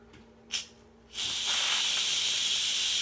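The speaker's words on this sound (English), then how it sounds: "Let all that steam come up." Steam hisses loudly from an Instant Pot's quick-release valve while Chicken Alfredo cooks, a brief puff first, then a steady, sustained rush that keeps going to the end.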